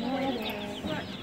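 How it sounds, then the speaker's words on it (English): Chicks cluster inside a farm supply store, a soft, busy chorus of high peeping and cheeping heard at close range for a short moment. "Little chicks."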